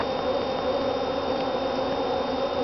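Dense, steady buzzing of many agitated honey bees, continuous and close, with a constant thin tone running through it.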